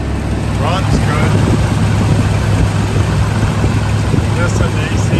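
The engine of a 1987 Chevrolet K20 square-body pickup runs at a steady low rumble, close by, with a person talking over it part of the time.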